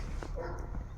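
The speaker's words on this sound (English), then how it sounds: "Sorry about the dogs barking." Dogs barking nearby, a brief muffled bark or two over a quiet room, faint and partly masked by low background hum.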